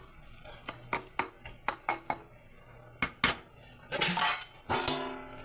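A cooking pot of shrimp with lati gets its lid: a run of light metallic taps and clinks, then two louder, ringing clatters of metal on metal, nearby.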